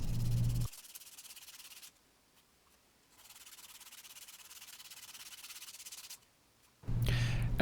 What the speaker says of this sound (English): After all that speed sanding